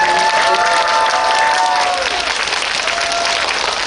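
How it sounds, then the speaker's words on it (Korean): Audience in a Lotte Cinema theatre applauding warmly during a stage greeting event, loud continuous clapping with some cheering mixed in, holding steady before easing slightly. "다시 한번 뜨거운 박수 부탁드립니다."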